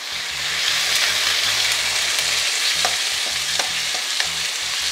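Long-sliced onions and a paste of chilli, garlic and coriander fry in a pan for a coconut-milk chitranna, with a steady loud sizzle and repeated scraping strokes of stirring throughout, no voices.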